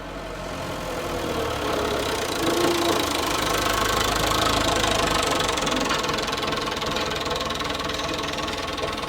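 A tractor engine running in an orange plantation, a steady mid-pitched diesel drone with a knocking rumble that holds level and fairly loud throughout, with no talk.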